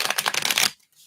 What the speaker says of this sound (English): Give this a little shuffle.